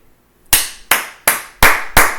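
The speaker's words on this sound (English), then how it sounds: "Everybody give Ohio State a round of applause" Five sharp hand claps, loud and close in a steady, even rhythm, with no talk over them.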